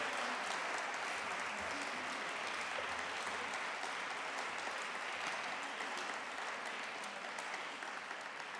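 An audience at a university awards evening applauds two people leaving the stage, a sustained, fairly distant sheet of clapping that holds steady throughout.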